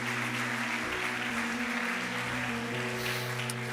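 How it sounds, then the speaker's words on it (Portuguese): A church congregation applauds in a dense, sustained wash of clapping, steady and moderately loud for a few seconds, with a low hum underneath. "dê a sua melhor salva de palmas na presença de Deus"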